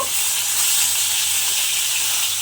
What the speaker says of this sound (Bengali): এইভাবে মাছগুলোকে তেলের মধ্যে দিয়ে একটু ভেজে নিতে হবে